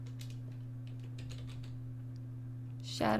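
A few light taps on a computer keyboard sound faintly over a steady electrical hum, ending in a louder click.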